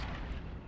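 Mortar fire in a WWII-era 1941 Russian line defense battle game, a deep rumbling boom filling the whole brief moment, loud and heavy with no talk over it.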